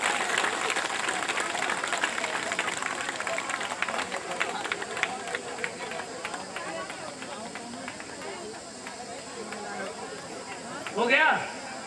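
Crowd applause at an SBSP political rally on an open ground in Bahraich, Uttar Pradesh, a dense, steady wash of clapping that fills the clip, thinning slightly toward the end, with a brief louder burst near the close.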